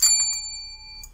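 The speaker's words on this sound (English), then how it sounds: "a small dingy bell" A small bell dings brightly, one clear strike with a couple of quick follow-up taps and a short ringing tone, close and loud, then a faint ding near the end.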